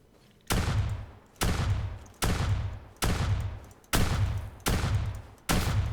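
Rapid volley of seven loud, booming blasts from an assault shotgun in Rising Storm 2: Vietnam, roughly evenly spaced with each shot trailing off before the next.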